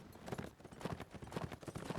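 Rapid clip-clop of galloping horse hooves in the video game Mount and Blade Warband, Napoleonic Wars line battle, a quick uneven drumming rhythm of many hoofbeats, moderately faint and continuous.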